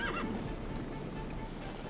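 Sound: horse neighing in the video game Witcher 3

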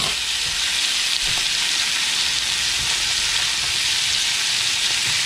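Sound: trout and mackerel frying in a pan

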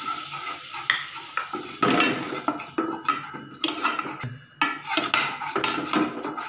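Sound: adding gram flour (besan) to hot ghee in a pan

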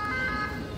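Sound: ambulance siren on a street in Seville

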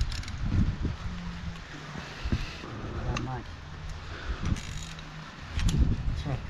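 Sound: ratchet wrench used while dismantling an Ursus tractor

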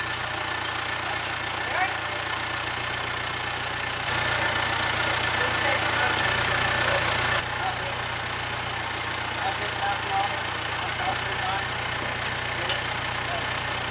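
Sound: tractor-driven slurry mixer running, breaking the crust on the tank

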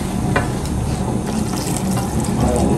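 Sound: hot water poured into pan for fish gravy

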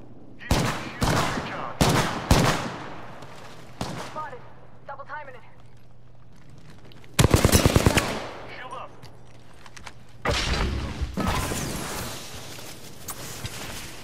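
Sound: enemy team gunfire in Apex Legends video game

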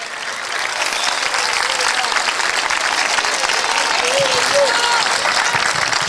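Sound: church congregation applause

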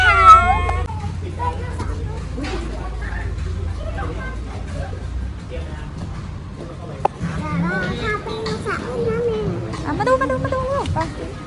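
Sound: kitten meowing in a cafe

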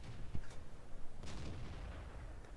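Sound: tank gun shot in the video game World of Tanks

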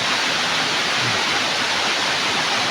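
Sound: waterfall flowing

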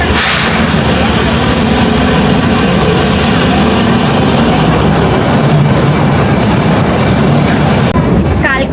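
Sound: Shivalik Deluxe Express toy train running on Kalka–Shimla railway

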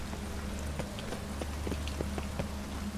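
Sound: rain in the video game The Witcher 3

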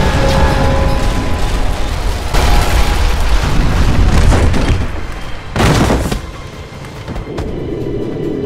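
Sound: explosion in Call of Duty Modern Warfare video game

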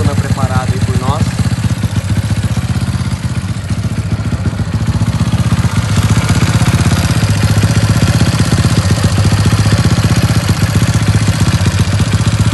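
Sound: Honda Titan 150 motorcycle engine, 74 mm, idling

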